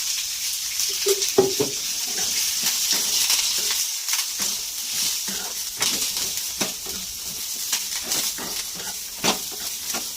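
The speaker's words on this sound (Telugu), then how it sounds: "మంచి స్మెల్ వచ్చే వరకు ఫ్రై చేసుకోవాలి. కొంచెం ఆయిల్ వేసుకోవాలి." Cumin seeds fry in oil in a pan, giving a steady close sizzle and hiss with occasional pops and stirring scrapes running throughout.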